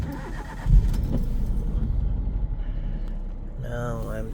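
A 2006 Toyota Aygo engine cranks and catches with a sharp thump, then settles into a steady low idle rumble close by, with a voice speaking briefly near the end.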